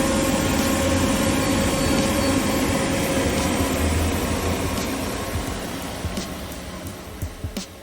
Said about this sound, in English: we're going to start our recovery machine